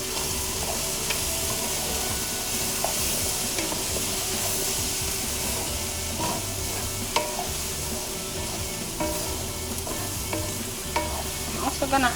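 Fried rice ingredients seasoned with garlic powder sizzle steadily in a pan, a dense continuous hiss with occasional stirring scrapes and clicks close by, and no voices.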